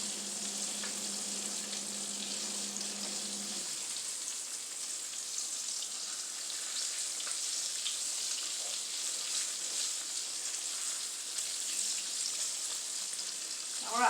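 Pork chops fry steadily in hot grease, a dense, even sizzle filling the whole stretch with soft crackles and pops. A low hum drops out early on, and no one speaks.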